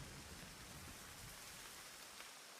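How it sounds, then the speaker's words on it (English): Steady, dense rain hisses through a storm in the Murder By Choice game, an even wash of falling water with no voices. "This storm came out of nowhere."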